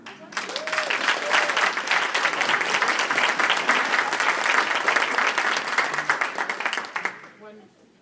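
An audience at a foundation event gives a speaker sustained, dense applause that swells and holds for several seconds before tapering off, with a voice briefly audible over it.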